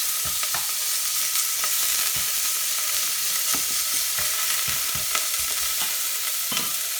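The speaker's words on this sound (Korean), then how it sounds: "달궈진 냄비에 참기름을 1스푼 정도 두르시고 고기를 익혀주세요" Steady sizzling of beef frying in sesame oil in a hot pot, with occasional stirring scrapes and clicks against the pot, continuous and close.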